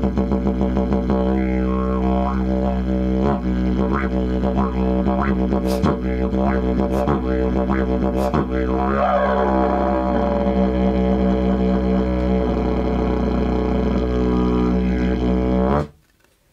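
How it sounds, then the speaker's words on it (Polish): A small modern travel didgeridoo plays a continuous droning tone with rhythmic pulses, shifting overtones and occasional sharp accents, loud and close for about sixteen seconds before cutting off. "Jest jeszcze podróżne didgeridoo."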